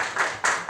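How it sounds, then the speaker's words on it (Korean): Audience applause at a Korean talk concert on children's illegal online gambling, a burst of clapping from a seated crowd that swells in waves, fairly close and alone without speech. "박수 한번 부탁드릴까요?"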